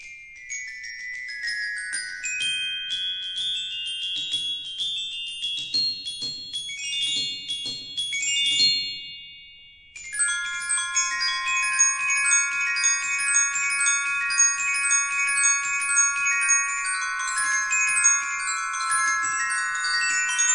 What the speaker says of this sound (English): On the high end of these similar-looking instruments is the glockenspiel